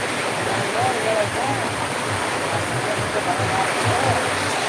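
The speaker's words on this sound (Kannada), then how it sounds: "ಮಲ್ನಾಡ ಸುರಿಯೋ ಥರ ಸುರಿ ಆಗ್ತೈತೆ ನೋಡ್ರಿ ಮಳೆ" Heavy rain pours steadily as a dense, continuous wash of noise with no breaks, close and loud, while a voice can be heard faintly behind it.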